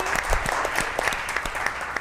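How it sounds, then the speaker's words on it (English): Brief round of applause from attendees at a real estate company stakeholders meeting, a dense steady patter of many hands clapping at moderate level for about two seconds. "Give him a big round of applause."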